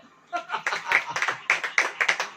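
A church congregation clapping hands during a sermon, the claps close and uneven at first, then settling into a quick rhythmic beat of distinct sharp slaps.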